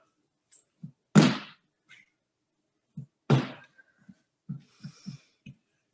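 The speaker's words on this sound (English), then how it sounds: "we're getting ready to go into squat jumps" Squat jumps during a strength and core workout: two heavy thuds of landings on the floor, well spaced, with soft footfalls and breathing noises around them in an otherwise quiet room.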